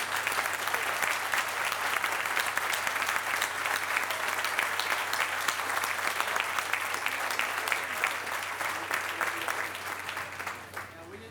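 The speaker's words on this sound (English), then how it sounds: "a round of applause" Sustained applause from an audience in a tent at the Silver Line grand opening ceremony, honouring elected officials; a steady wash of clapping that holds strong, then thins slightly toward the end.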